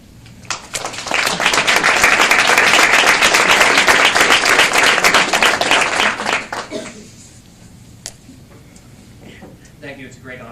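Audience at a LifeSource press conference applauding to welcome Larry Odebrecht, a loud, dense burst of clapping that holds for about six seconds and then quickly fades, leaving a few scattered claps and quiet room noise.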